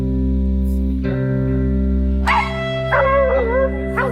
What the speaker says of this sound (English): The bay dogs are hot on the trail of the boar,